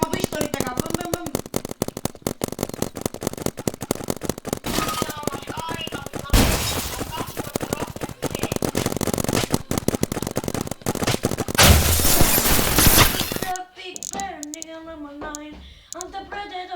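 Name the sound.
pistol gunshots in the video game Roblox Big Paintball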